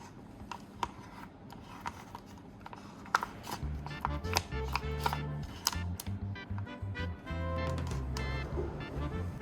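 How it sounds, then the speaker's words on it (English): A tool stirring a thick mixture of cement and crushed styrofoam, giving gritty scraping and scratchy knocks at an irregular pace, then a steadier, denser churning scrape toward the end, close up. "Next, I stir it for a while to smooth out the texture"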